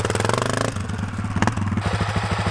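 A Honda CRF250F dirt bike engine pulls away under light throttle, its close, loud, rapid thumping exhaust pulses shifting pitch as the bike moves off.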